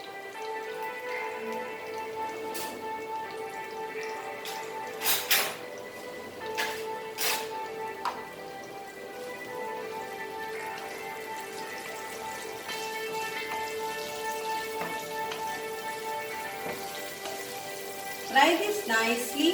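Goan chicken xacuti ingredients, including grated coconut and xacuti masala powder, fry in a pan with a faint, steady crackle and scattered sharp pops, quiet and close.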